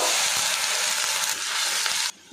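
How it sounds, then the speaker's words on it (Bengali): Ginger and garlic frying in a pan, a loud, close, crackling sizzle with a few stirring scrapes that drops off abruptly at the end. "আদা রসুনটা আমি ভাজা ভাজা করে নিয়েছি"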